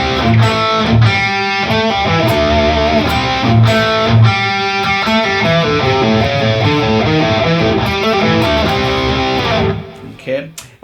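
Distorted electric guitar plays a riff slowly, loud and close, with a steady stream of picked notes that rings out and fades at the end.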